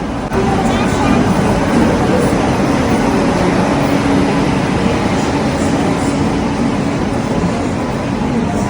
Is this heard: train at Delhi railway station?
yes